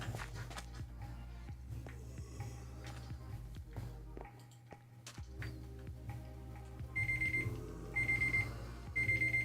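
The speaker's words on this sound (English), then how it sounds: "Oh, my alarm went off." An alarm clock goes off as a run of high, evenly spaced electronic beeps near the end, sounding over steady background hum, ticking and soft footstep-like thumps.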